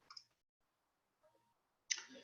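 Two sharp computer mouse clicks sound close by, one at the start and another near the end, separated by near silence with a faint soft tick in between.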